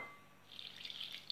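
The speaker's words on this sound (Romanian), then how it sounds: "O să adăugăm puțină apă." A small amount of water poured onto yeast and a spoonful of sugar for a bun dough, a short close trickle and splash beginning partway in, alone and fairly quiet.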